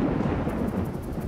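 Storm thunder in the animated series Dino Ranch, a brief, steady low rumble rolling close and loud with no voices over it.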